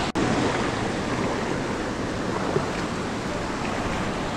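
Rushing water from a waterfall on the 7 Waterfalls hike in Juayua, El Salvador, a steady, loud broadband roar heard up close as someone walks through it, with a short knock near the start.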